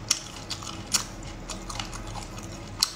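Close-miked chewing of chewy, spicy roasted food: soft wet mouth sounds run steadily, broken by a few sharp crisp bites, with no talking.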